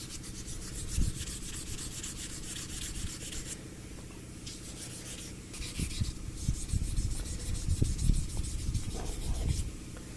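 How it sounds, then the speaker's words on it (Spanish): Fine 1000-grit sandpaper rubs over a carved alabaster stone sculpture of a water drop, a soft continuous scratchy hiss with faster back-and-forth strokes and light knocks in the second half, close and alone. "Ya estamos con la última lija, con la del 1000."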